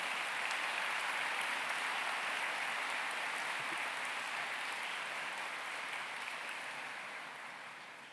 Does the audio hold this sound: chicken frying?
no